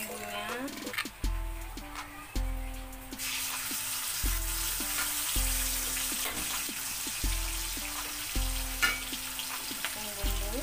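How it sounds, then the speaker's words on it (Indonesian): Spice paste for clear chicken soto stir-fried in a pan gives a continuous sizzling hiss with occasional stirring scrapes, with a repeating melodic background tune underneath. "Kemudian oseng bumbunya."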